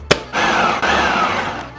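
A blender whirs loudly and steadily for nearly two seconds after a short knock, with a rising-and-falling pitch as the motor churns ingredients for pizza dough.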